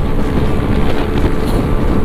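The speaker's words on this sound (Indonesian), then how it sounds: "Kenceng banget motor si Farhan" Steady, loud roar of a Yamaha Aerox turbo scooter riding fast on a mini tour up to Puncak, with the engine drone buried under heavy wind rush and no talking.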